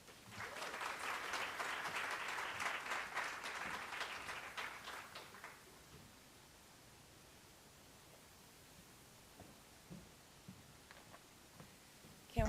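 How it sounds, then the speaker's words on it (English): Audience applause at a first-generation graduation celebration, a dense steady round of clapping for about six seconds that then fades, leaving a quiet room with a few scattered claps and small noises. "Can we give one more round of applause to my Kinspop?"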